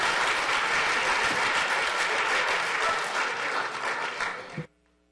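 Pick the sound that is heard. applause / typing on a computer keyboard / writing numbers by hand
applause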